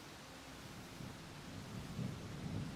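Steady rain pours in the Roadcraft video game while low thunder rolls and rumbles in the distance, swelling gently in waves across the whole stretch, with no voices.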